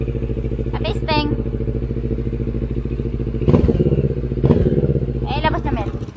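A Kawasaki Z650 motorcycle idles loud and close during a test run, its steady throbbing rumble swelling in a few short throttle blips, with a voice talking over it.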